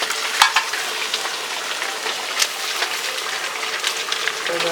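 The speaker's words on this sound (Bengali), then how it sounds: "এখন শাকটা দিয়ে দেবো" Malabar spinach (pui shak) goes into a hot pan of dal-style cooking with no spices, hitting with a sharp hiss that settles into a steady, loud, close sizzle with occasional crackles.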